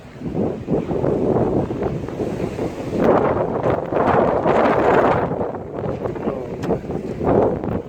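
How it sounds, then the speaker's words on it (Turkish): Strong gusting wind roars and buffets the microphone continuously, rising and falling in loud blasts with a rough, rushing texture throughout. "Felaket bir fırtına var."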